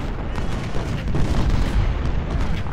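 Heavy cannon artillery fire in the Civil War video game Ultimate General: Civil War, booming in overlapping low rumbling blasts that roll continuously for a few seconds with no talking.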